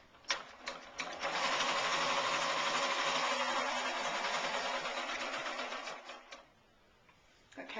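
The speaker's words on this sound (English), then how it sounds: "I'm just going to stitch down the centre of the heart with an ordinary straight stitch, just to hold it in place" A sewing machine runs a plain straight stitch down a ribbon laid along the centre of a felt heart, a close, continuous buzz of about five seconds with brief starts and stops at either end.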